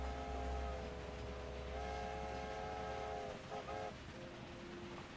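A train rolls through the Carpathians in the game Railway Empire 2, a steady low rumble of wheels and engine under a sustained multi-tone horn blast that breaks off briefly near the end; no talking.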